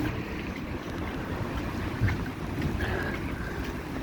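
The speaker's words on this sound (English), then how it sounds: "So it's throwing it down. It's windy." Heavy rain and strong wind batter a seafront promenade in Blackpool during Storm Debi, a constant loud roar of wind buffeting with rushing rain noise, steady throughout with a brief gust thump.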